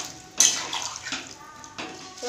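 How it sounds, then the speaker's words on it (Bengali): Water pours into a pan of potato and onion curry, a splashing stream that starts abruptly and runs on, fairly faint and close, with a second pour near the end. "এবারে আমি দিয়ে দিব জল।"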